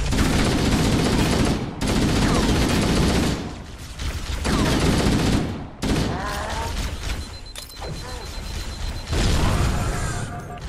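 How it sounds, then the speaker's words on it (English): Assault rifle fire in Halo: The Master Chief Collection comes in dense sustained bursts broken by brief pauses, loud and close, mixed with mechanical clatter and booms. "I hate this assault rifle."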